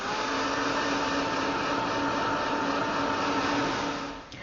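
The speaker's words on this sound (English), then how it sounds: "I'm going to heat set this." A heat tool blows steadily while setting paint in an art journal, a loud, even whirring hiss that holds constant for several seconds, then dips slightly as it shifts near the end, with no voices.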